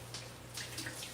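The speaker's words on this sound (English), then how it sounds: "So I'm gonna go ahead and wash this pot" Running water from a tap rinsing a cooking pot, a steady soft splash with small bursts of spatter, close and fairly quiet over a low hum, with no talking.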